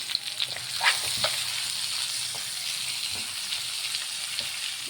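Onion, green chili and curry leaves frying in oil with garlic and chicken spices, giving a steady close crackling sizzle with occasional stirring clinks and no talking.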